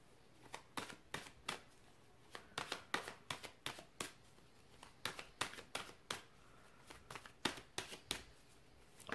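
Tarot cards being shuffled by hand in quick irregular bursts of crisp riffling snaps, close and quiet, with no talk over them.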